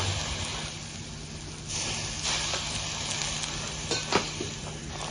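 Naan dough hisses and sizzles steadily on a hot tawa while being pressed down, a soft continuous frying sound with a few louder crackles.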